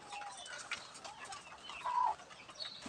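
Chickens cluck and murmur softly around a brooding hen sitting on many eggs while a rooster stays nearby, faint and scattered calls with one short, clearer cry midway.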